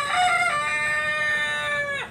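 A rooster crows once in a single long, loud, near call lasting about two seconds, in a backyard where soil and rotted rice husk are being mixed for a large-trunk Sancang bonsai; no talking.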